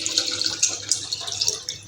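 Water is poured into a bowl set on a stove over a medium flame, a close, gurgling splash with small bubbling peaks for about two seconds.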